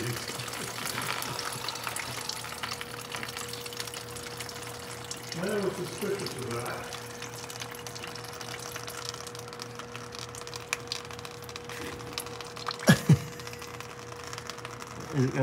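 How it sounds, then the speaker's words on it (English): Water drains and trickles from the air tank of an old Prevost bus, a continuous splashing flow under a steady hum, with a few sharp knocks near the end and voices nearby. "And that's that's water coming out of the air tank?"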